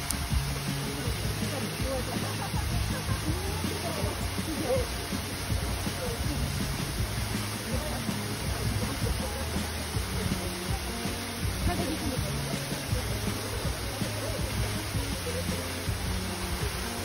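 Steady, dense rush of Minoo Waterfall in Minoo Park near Osaka, Japan, continuous and fairly loud throughout, with no pauses.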